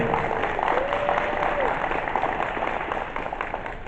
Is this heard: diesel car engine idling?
no